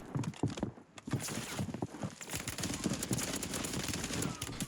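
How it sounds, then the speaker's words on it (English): Rapid gunfire in a shooter video game, dense bursts of close, crackling shots and impacts overlapping in quick succession throughout. "We have another guy shooting at me over here."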